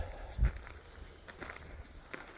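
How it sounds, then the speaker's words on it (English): Footsteps on a hollow wooden floor upstairs in an old building, a few muffled thumps, one heavier knock followed by lighter steps. "we can hear footsteps upstairs"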